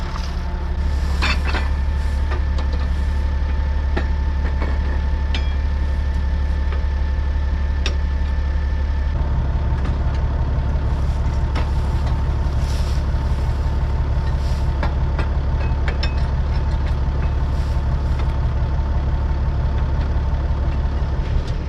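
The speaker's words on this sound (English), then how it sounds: "So we'll go bale it up." A tractor works a baler on silage in a field in Leitrim, a steady loud low engine drone with machinery clicks and knocks. The tone deepens as the load changes halfway through.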